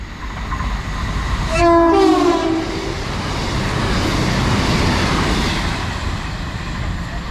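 A train passes through a station on the Southampton to Lymington line and sounds its horn loudly once with a falling Doppler pitch, followed by rising and fading rumble and rail noise as it goes by.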